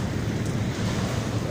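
Waves wash onto a sandy seashore in a continuous low roar, mixed with wind buffeting the microphone and a faint trace of voices.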